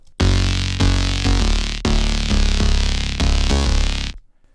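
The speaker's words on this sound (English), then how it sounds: "Listen to this bass when I'm not having this filter on." A loud, bright, buzzy synth bass plays a sustained sequence of notes, rich in harmonics and unfiltered, with no talking.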